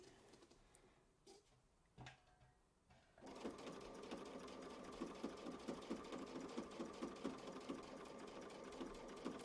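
A sewing machine stitches down a seam on a quilt block, running steadily after a few quiet seconds of handling, with a fast even mechanical chatter that is close and continuous to the end.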